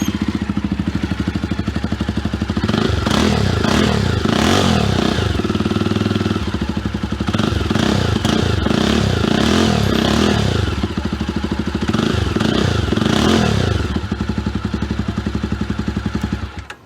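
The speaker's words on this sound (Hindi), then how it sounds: "this was the Java on stock exhaust but without the baffles" A Jawa motorcycle engine runs on its stock exhaust with the baffles removed. It idles with a loud, throaty, close-up burble and is blipped through several sharp rev rises and falls.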